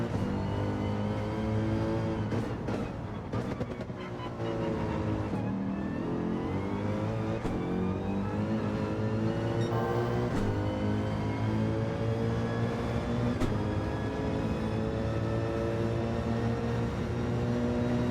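A racing car in Gran Turismo 7 revs steadily, its engine pitch sweeping up and down through repeated gear changes and corner exits, a continuous close, loud drone with no voices.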